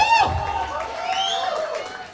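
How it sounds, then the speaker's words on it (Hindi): Audience applause and cheering at a TV platform launch event, a broad steady wash of clapping and crowd noise with some voices mixed in throughout. "तो आप जोरदार तालियां बजाइए।"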